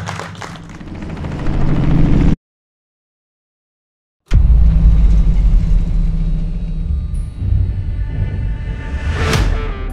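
Robinson R66 helicopter heard as a steady, loud rotor and turbine rumble, cut by a roughly two-second gap of silence, then resuming with a rising whine near the end.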